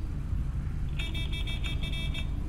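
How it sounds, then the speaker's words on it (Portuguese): A car horn in the video game GTA 5 honks in a gang area, with about eight rapid, evenly spaced beeps in the second half over a steady low engine rumble. "Tô buzinando pra ver se aparece alguém."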